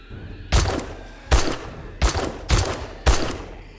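Five loud, sharp video-game gunshots in 7 Days to Die ring out at irregular intervals, each with a short booming tail, with no talking.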